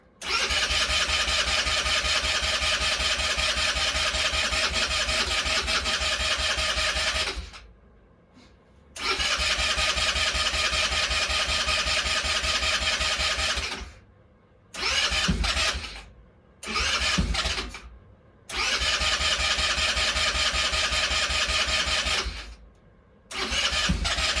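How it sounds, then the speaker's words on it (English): An ATV engine cranks on its starter motor in long sustained whirring bursts, loud and close, separated by short pauses and a few quick stabs, without catching. "Don't want to burn the starter out."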